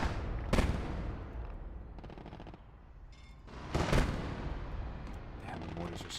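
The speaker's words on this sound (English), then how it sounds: "Damn, the mortars are so annoying." Mortar and artillery blasts from the WWII strategy game Gates of Hell: Ostfront, two loud explosive bursts standing out against a continuous rumble of distant gunfire, with a voice talking over it.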